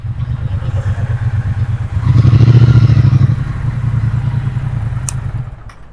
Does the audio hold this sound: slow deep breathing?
no